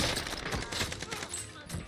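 MP5 gunfire in the video game Call of Duty Warzone, a short dense burst of rapid shots, loud and close, with a voice talking over it.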